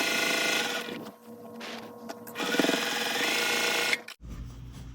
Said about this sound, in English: I do stitch over pins sometimes when the need presents itself